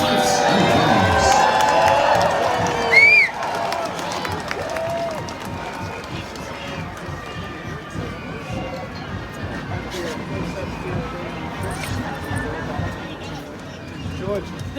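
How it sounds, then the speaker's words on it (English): Crowd cheering and clapping outdoors at a Boston Tea Party anniversary event for a fife and drum corps, loud at first and then settling into a lively murmur of voices and scattered claps. "Let's have a round of applause for the Middlesex County Volunteers, Fifes and Drums."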